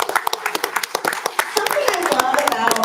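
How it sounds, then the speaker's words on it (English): Board meeting audience giving a round of applause, a group clapping with rapid overlapping claps that start sparse and build into steady applause, with some voices and cheering rising toward the end. "so let's give her a round of applause"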